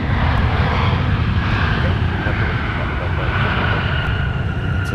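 An airliner arriving at snowy Minneapolis–St. Paul airport from Cancun gives a steady, loud broadband engine roar with a low rumble that holds evenly throughout, close and continuous.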